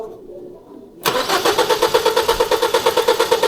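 A 2014 Ford Focus that will not start after a timing cover replacement cranks loudly up close, the starter turning the engine over in a fast, even rhythmic chug that runs without catching.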